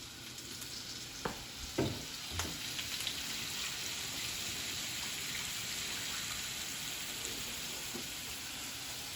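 Butter and olive oil sizzle in a hot sauté pan, a steady, close hiss with a few sharp pops and crackles near the start, no voices.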